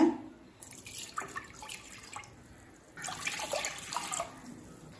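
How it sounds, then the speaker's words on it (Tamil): Water pours and splashes into a pan in two soft bursts, close and fairly quiet, with a brief lull between them, while making aval kesari from flattened rice. "இப்போ அடுத்தது 2 கப் தண்ணி சேர்த்துக்கலாங்க."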